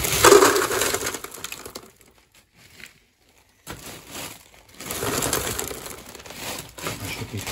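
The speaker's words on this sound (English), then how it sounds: "All right, ice is going in." Ice cubes crunch and clatter as they are tipped into a container. There are bursts of rattling, a quiet gap in the middle, then more tumbling and shifting of ice, heard close up.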